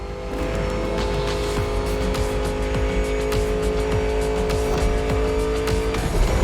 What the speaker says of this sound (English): Mustang Shelby GT500 is a bit on the modern side